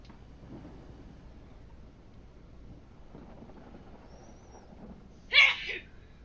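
A single sneeze from a person nearby, short and sharp near the end, rising above a quiet outdoor background with faint low rumble.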